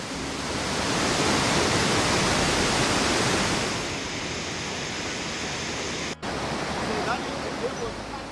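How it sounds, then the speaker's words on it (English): Victoria Falls roars with a dense, steady rush of crashing water, loud and unbroken throughout. "this massive wall of water"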